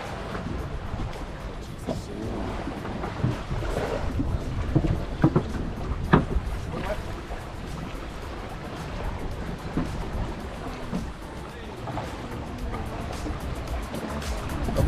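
A long-tail boat's diesel engine drones steadily out on the water near Phuket, a rough continuous rumble mixed with splashing and wind noise.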